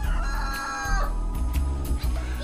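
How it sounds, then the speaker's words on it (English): A cockerel crows loudly and close by, a drawn-out cock-a-doodle-doo with a strained rising call, heard on its own. "No, this is a cockerel."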